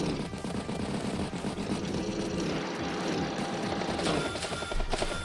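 Combat attack sounds from units in the video game Advance Wars, including a battle copter striking a tank, fill the stretch as a dense, continuous clatter of gunfire and whirring aircraft noise, loud and steady with no talk.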